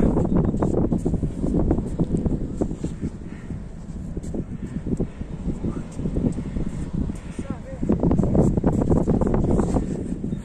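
Gusty wind roars and buffets against the microphone in low rumbling bursts, with people talking in French over it.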